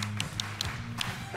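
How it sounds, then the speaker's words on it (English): A handful of sharp claps from a small group at a professional women's bowling regional showdown in Orlando, spaced irregularly over a low steady arena hum, fairly faint. "Let's clap."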